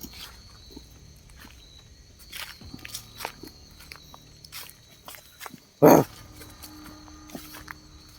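A single sharp dog bark stands out against a quiet night background of chirping insects, with faint scattered footstep-like scuffs around it.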